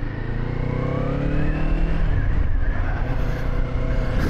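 A 2024 Kawasaki Eliminator 500 motorcycle engine hums steadily while being ridden, a continuous close drone with slight pitch shifts and wind noise, no voices.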